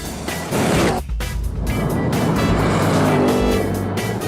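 A Ford Mustang drives at high speed, its engine roaring loud and steady with a brief dip partway through, the sound sustained and close throughout.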